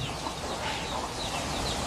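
Gamecock chickens of a Burmese crossbred line cluck in a coop, a steady dense mix of soft calls and faint fowl noises with no pauses, nothing else standing out over the flock.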